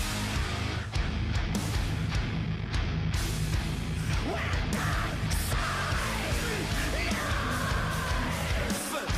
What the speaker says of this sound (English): I love that scream right there.